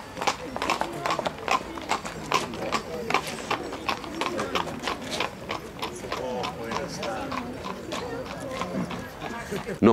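Horses' hooves clip-clop on hard ground at a traditional horse blessing above a Slovenian village, a dense run of sharp overlapping hoof strikes at close range, with people talking throughout.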